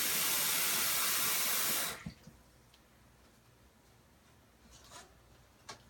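About a cup of water poured from a tap into a bowl for cooking noodles: a loud, steady rushing hiss for two seconds that cuts off abruptly, then a quiet room with a few faint clinks.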